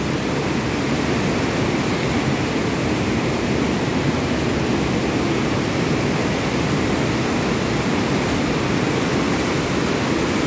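Strong river water pouring through the Gotta barrage in a high, fast flood, a loud continuous roaring rush with no break across the whole stretch.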